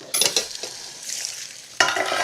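Potato and egg frico sizzles in a hot pan, with scraping and clattering as it is flipped; bursts of frying noise come and go, then return loudly near the end.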